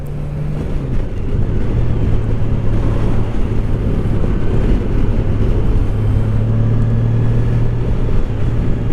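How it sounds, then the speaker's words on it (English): A 2020 Honda Goldwing motorcycle is ridden steadily, with a low droning engine and exhaust hum under heavy rushing wind noise, and a pitch shift as the revs change early on. "The exhaust on this bike and the sounds from the intake are considerably more than what you would find on the"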